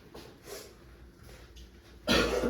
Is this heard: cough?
yes